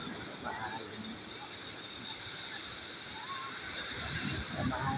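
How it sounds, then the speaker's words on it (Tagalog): Choppy midday sea at Dagupan, Pangasinan, heard as a steady broadband wash of waves and wind noise, fairly loud and continuous, building slightly toward the end with no distinct talk. "yan ang dagat. Medyo tanghali na kaya ganyan. Maalon na."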